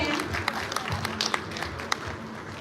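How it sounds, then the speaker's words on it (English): A small audience at a space day quiz event claps for a student's correct answer, scattered sharp hand claps over a low hum of room noise. "A round of applause for him."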